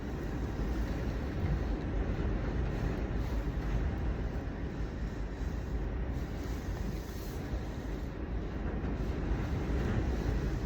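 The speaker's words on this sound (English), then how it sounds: "Y'all hear that wind?" Strong wind roars without a break, a dense broadband rush buffeting the microphone with low rumble, loud and continuous with no voices.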